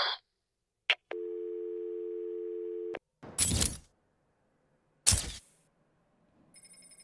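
A telephone busy or hang-up tone from Batman: Arkham City plays as a steady buzzing line for about two seconds. It is followed by a couple of soft rustling bursts and a faint tonal chime near the end.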